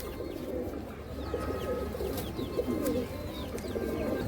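Madrasi pigeons cooing softly together, low throaty rolling calls repeating in overlapping waves close by, with faint background murmur and no clear speech.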